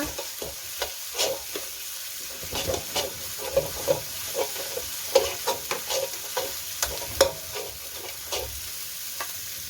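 Chili and garlic stir-fried in a wok for a Thai basil squid and minced pork dish, a steady close sizzle broken by repeated clinking scrapes of a spatula against the pan, with no talking.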